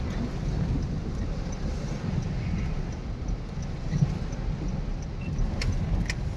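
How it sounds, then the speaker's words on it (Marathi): Heavy monsoon rain drumming steadily on a car at Malshej Ghat, a dense continuous roar heard from inside with a low rumble underneath and a few faint clicks near the end. "पाऊसच भरपूर आहे ना"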